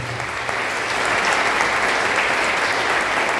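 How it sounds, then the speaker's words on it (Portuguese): A church congregation applauding strongly, a loud sustained wash of many hands clapping together that swells after a brief start and holds steady. "Vamos aplaudir Jesus muito forte."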